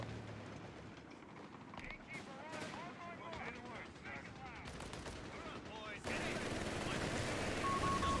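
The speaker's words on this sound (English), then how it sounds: "Nice, I'm barraging in the right spot." Artillery barrage in the Company of Heroes 3 video game, with US forces in a 2v2 match: dense rumbling impacts and gunfire crackle, growing louder and heavier toward the end, mixed with game sounds and a voice.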